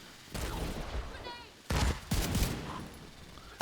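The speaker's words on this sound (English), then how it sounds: "put the Seeker Mines down first, set up the mortar, then issue the Seeker Mines" Rapid bursts of explosions and gunfire from Seeker Mines and a deployed mortar in the video game The Division 2, heavy booms clustered in two loud waves with some speech mixed in.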